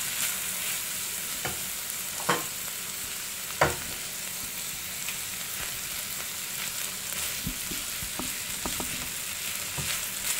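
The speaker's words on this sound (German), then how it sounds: "dann hier brate ich das Ganze für 1 oder 2 Minuten" Green beans with spices and tomato paste fry in a pan, a steady close sizzle broken by scattered spoon scrapes and clinks, two of them sharper knocks early on.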